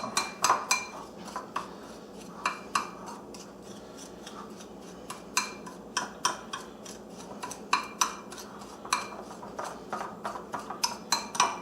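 Ground beef being stirred in a bowl with strong jerky seasoning and cure, a utensil clinking against the bowl in steady, repeated taps close by.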